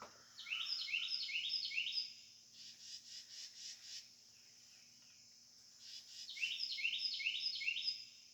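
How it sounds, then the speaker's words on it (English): Songbird calling from the far side of a pond, bursts of clear, repeated chirping phrases at the start and end, with a softer trilling call between, carrying over a quiet outdoor background. "Did you hear that beautiful bird?"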